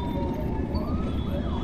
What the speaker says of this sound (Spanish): Se escuchaban sirenas lejanas y gritos aislados que no terminaban de explicarse.